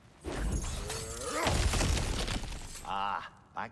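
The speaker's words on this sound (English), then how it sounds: "Ah, back to smashing through things for fun and profit." Objects shatter and break in the video game God of War Ragnarok, with crashing debris heard alongside speech, ending in a short burst of cracking.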